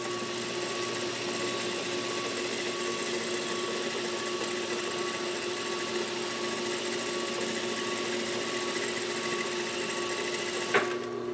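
A Juki DDL 8300N industrial sewing machine stitching steadily at a controlled speed, a close, even mechanical hum and rapid needle clatter running continuously, ending in a single sharp click.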